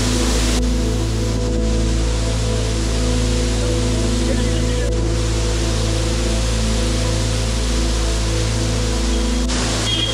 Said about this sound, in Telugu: దగ్గరలో ఒక చిన్న వాటర్ ఫాల్ ఒకటి కనపడింది